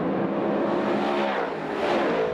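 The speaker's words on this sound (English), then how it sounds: "That was an outside-in pass of two cars by Pete Bicknell" Dirt track race cars at Super DIRT Week's Eckerd 200, one overtaking two others on the outside: a dense, continuous roar of several loud engines racing past close by, with no talking.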